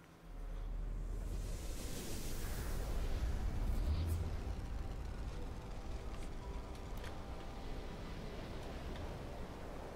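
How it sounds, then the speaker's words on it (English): Warm, boiling rain on a planet in No Man's Sky falls as a steady, broadband hiss that swells in after a quiet start and continues evenly at moderate level. "The rain's a little warm, but it's actually not that bad."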